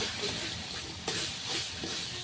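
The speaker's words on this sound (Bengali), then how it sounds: "একটু মশলার বাটিটা দিয়ে মশলা জলগুলো কষিয়ে নিতে হবে।" Spices and ginger sizzling and frying in a pan while being stirred, a steady close hiss with soft scraping stirs throughout.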